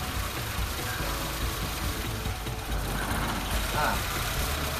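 A Honda Civic FD engine idles with the cylinder two ignition coil unplugged, giving a close, steady low rumble that holds evenly through the whole stretch.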